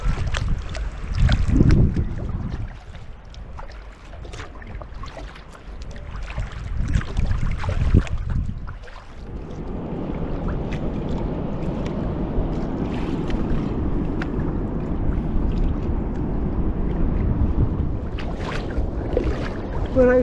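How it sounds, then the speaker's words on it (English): A sea kayak is paddled on swelling water between Port Island and Fall Bay, with steady water wash and splashing, heavy wind buffeting the microphone and a dull rumble, no speech. "We're out for a paddle."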